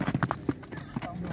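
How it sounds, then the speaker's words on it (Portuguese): Horses moving close by, including a young filly being fitted with a bridle for the first time: quick uneven clip-clop of hooves over a short stretch, with a voice briefly audible. "Tá vendo os cavalos aqui, os companheiros?"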